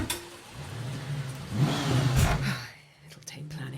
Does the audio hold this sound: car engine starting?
yes